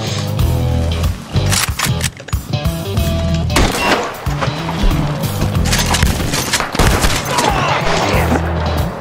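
Loud, dense gunfire and explosions from a multiplayer shooter video game, with rapid bursts and booming impacts layered over game music and effects, continuous and close throughout.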